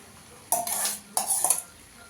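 Paneer cubes tipped into a pan of spice paste for a paneer and cauliflower curry, giving two short bursts of scraping, clattering stirring with a light sizzle, close and clear against a quiet background.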